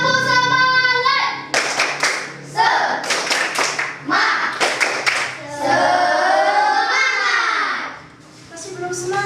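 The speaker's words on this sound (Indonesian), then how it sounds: "Tepuk semangat." Students in an Indonesian classroom perform a rhythmic spirit clap, bursts of sharp group hand claps in patterned sequences, mixed with children's chanting voices and a sustained vocal cry near the end.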